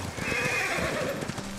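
A horse in the video game Ghost of Tsushima whinnies loudly over a steady clip-clop of hooves, close and continuous with a game soundtrack underneath.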